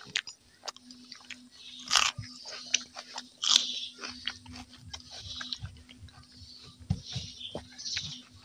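Raw onion is bitten and chewed up close, two sharp crunchy bites followed by softer, irregular chewing crackles in a quiet room, with no talking.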